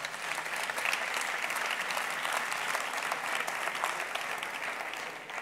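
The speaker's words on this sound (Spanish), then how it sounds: "Un aplauso, por favor." Sustained applause from a conference audience at a Tecnológica technology event, a dense, steady wash of many hands clapping at even volume throughout, fairly close, with no talking over it.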